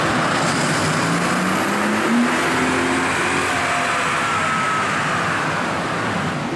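A Mercedes CL65 AMG engine roars through a second-gear pull on a dyno, a loud sustained rising tone that climbs steadily in pitch for several seconds with no talking.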